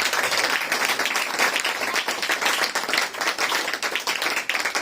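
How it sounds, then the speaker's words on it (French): A church congregation claps and applauds at a French-language service, a dense, steady wash of hand claps filling the whole stretch at even loudness, with a faint voice barely present beneath. "Acclamez pour le Seigneur"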